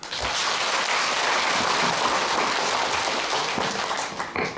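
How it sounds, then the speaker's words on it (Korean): A dense, continuous wash of audience applause at a symposium on wartime forced labor, loud and sustained throughout with no voices rising above it, thinning slightly at the very end. "박수 부탁드립니다"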